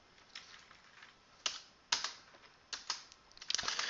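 Computer keyboard typing at close range, a run of quiet keystrokes with a few sharp louder taps and a denser burst near the end, no voices.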